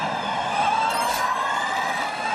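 Formula E electric race cars exiting turn 22 at the Seoul E-Prix street circuit, a steady high-pitched motor whine with a brief swell near the middle as a car passes, heard alone without talk.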